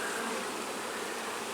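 Honeybees buzz around an open hive with a laying queen among brood and pollen-filled comb, a dense, steady close-up hum from many insects with no pauses or talking.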